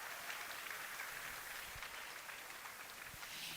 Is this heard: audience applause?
yes